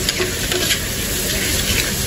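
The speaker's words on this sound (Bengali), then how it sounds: "এই জায়গায় কিন্তু মশলাটা আমি কষিয়ে নিয়েছি 2 মিনিটের মতো।" Spice masala for a puti fish curry frying in a pan, a loud, steady close sizzle with stirring scrapes and no talk.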